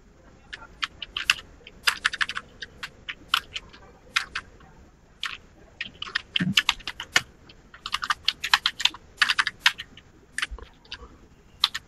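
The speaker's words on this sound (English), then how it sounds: "I'm not typing real well." Rapid clicking of keys on a computer keyboard, typed in irregular bursts with short pauses, close and fairly quiet with no talking.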